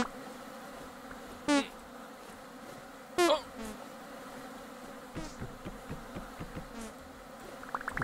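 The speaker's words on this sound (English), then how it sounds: "The bees don't really hurt you that much." Bees buzzing in the survival video game Vintage Story, with two loud close buzzing passes that swell and fade, followed by fainter scattered buzzes and ticks.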